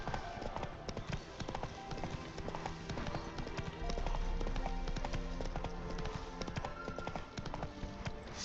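Hooves of Roach, Geralt's horse in The Witcher 3 video game, clop in a quick steady rhythm on hard ground, loud and close, mixed with game music and a voice speaking over the gameplay.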